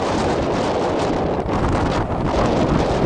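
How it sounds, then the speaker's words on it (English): Strong wind at Theodore Roosevelt National Park's South Unit among the buttes, a loud, constant roar buffeting the microphone with continuous rumbling gusts and no pauses. "It's ridiculous winds."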